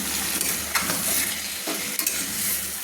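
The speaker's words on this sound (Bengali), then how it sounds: "আবারও ভালো করে একটু নেড়ে নিচ্ছি" Spring onion shrimp (peyajkoli chingri) being stir-fried, a steady close sizzle with scraping stirs in an irregular rhythm, loud and continuous with no talk.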